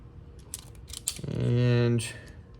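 A crimping tool squeezes a terminal fitting onto 8-gauge wire: a few light clicks, then a loud, close, squeaky squeeze lasting under a second before it releases. Speech is heard around it.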